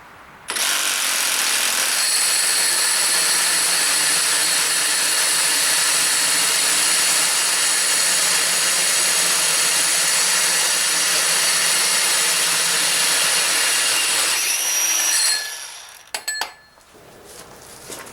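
A Milwaukee M18 FUEL 2712 SDS-Plus cordless rotary hammer drilling through a hole, a loud, steady hammering whine held for about fifteen seconds before winding down to a few rattles and clinks, no talk.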